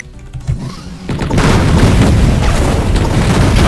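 A rocket blast in Duke Nukem 3D erupts with a loud, sustained booming roar after a few quieter game sounds, rumbling on at full strength to the end.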